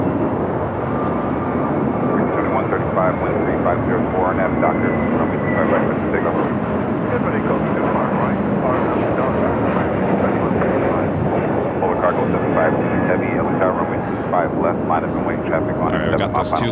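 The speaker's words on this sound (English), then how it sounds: "the flight heading to Guadalajara, Volaris A321neo up next for takeoff" A Volaris Airbus A321neo takes off at LAX, its engines giving a loud, steady roar that fills the whole stretch without letup, with people talking over it.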